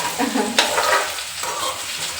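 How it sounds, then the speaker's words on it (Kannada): Egg and potato frying in a pan, a loud close sizzle with a stirring scrape partway through, continuous for a couple of seconds with no talking. "ಇದು ಫುಲ್ ಗೋಲ್ಡನ್ ಬ್ರೌನ್ ಆಗೋ ತನಕನೂ ನಾವು ಇದನ್ನು ಫ್ರೈ ಮಾಡ್ಕೋಬೇಕು"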